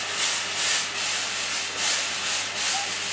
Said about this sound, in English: I can hear the pumping.